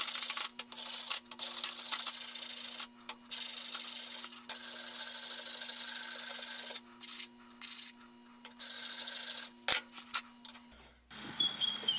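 An acid-sharpened metal file rasps across metal in long, loud, continuous scraping strokes with short pauses between them, harsh and screechy, with a steady hum underneath, ending in a few scattered knocks.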